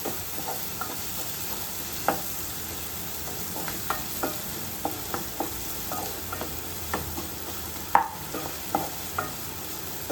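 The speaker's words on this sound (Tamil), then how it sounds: "நல்ல வெங்காயம் வதங்கட்டும் உப்பு போட்டு வதக்குங்க" Onions sautéing with salt in coconut oil for a Kerala-style egg curry, a soft steady sizzle broken by repeated clicks and scrapes of a stirring spoon against the pan, with no talk.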